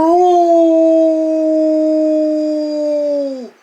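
A single sustained, steady howl, loud and close, holding one pitch for over three seconds before dropping off abruptly; it may be a human voice imitating a wolf's excited howl.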